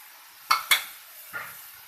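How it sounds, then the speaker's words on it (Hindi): Vegetable filling with chicken powder and black and white pepper stirred in a hot pan on high flame: two sharp spoon scrapes close together, then a softer third after a pause, over a faint background hiss. "और इसको हमने करना है मिक्स।"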